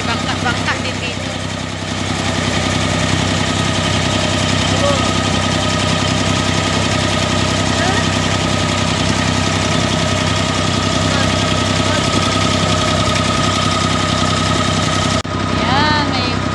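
A boat engine runs with a steady, loud, droning hum that holds constant throughout, with a brief dip near the start and a short change near the end.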